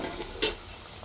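Coriander and poha vadis frying in hot oil, with sesame seeds in the mix, give a quiet steady sizzle and one brief louder crackle partway through, with no talking.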